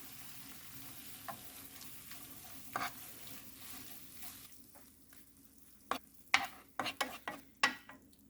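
Shredded dried pollack being stir-fried in a pan for under three minutes, with a soft background sizzle and a handful of sharp utensil scrapes and taps against the pan near the end.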